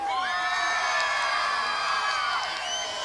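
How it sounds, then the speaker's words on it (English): Fans along the right field line cheer at a youth baseball game in Glendale, California, a sustained mass of shrill, high voices whooping and shouting at a distance, steady throughout. "And you can hear the crowd along the right field line."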